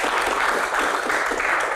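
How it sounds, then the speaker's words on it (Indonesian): Brief, dense applause from a crowd at an Indonesian Q&A session, an even wash of many hands clapping at once, close and steady without talk. "Tepuk tangan buat quote of the day"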